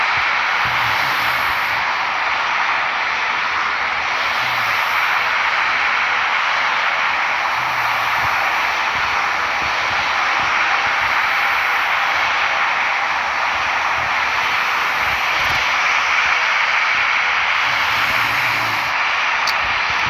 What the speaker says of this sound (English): It's the plane.